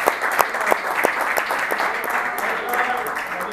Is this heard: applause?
yes